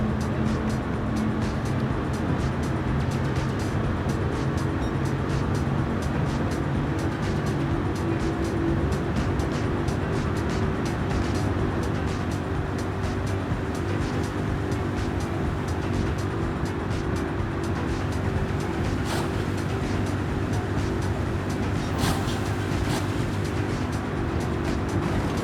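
A Dodge Viper GTS in Gran Turismo 7 drones at sustained high speed, its engine a steady loud rumble holding near-constant pitch for the whole stretch, with faint ticking over the top.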